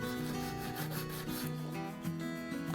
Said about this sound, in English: sanding crosswise on the fretboard, use the radius of the board to shape the bottom of the nut